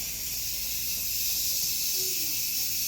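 A pressure cooker on a stovetop at full pressure gives off a steady, high steam hiss that runs unbroken and fairly quiet, with a faint low whistle-like tone rising briefly partway through.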